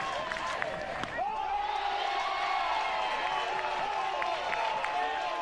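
A college softball stadium crowd at Oregon versus Stanford sustains loud cheering and applause with whoops, a dense, continuous roar as a commentator talks over it.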